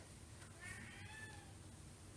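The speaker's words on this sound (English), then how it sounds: "I'm going to let my cat in. He's screaming there." A cat meows insistently outside a door, a few faint, drawn-out wailing cries heard at a distance in a quiet room.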